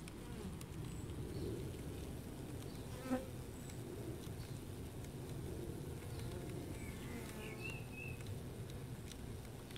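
Bees buzzing inside a DIY polystyrene beehive with black-painted sides, a dense steady hum close by, with a faint brief tick partway through.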